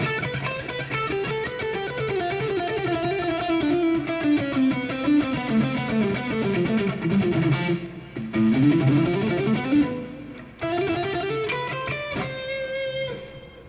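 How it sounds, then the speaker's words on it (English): A PRS electric guitar with heavy distortion plays a sustained, saturated passage of chords and bending lead lines, loud and continuous with a couple of brief breaks, and no voices over it. "I have a lot of distortion right now"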